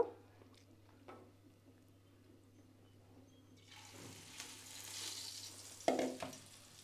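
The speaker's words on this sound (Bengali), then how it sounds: "এখন এটাই আবার বড়া ভেজে নেব" Bora fritters dropped into hot oil in a pan, a quiet hum that gives way to a rising broad sizzle and bubbling, with a few louder splutters near the end.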